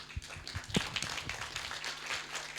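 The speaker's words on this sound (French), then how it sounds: "On peut les applaudir les enfants encore?" A church congregation at a Christmas service claps for the children, heard as scattered, faint hand claps and taps that are irregular and brief rather than a full ovation.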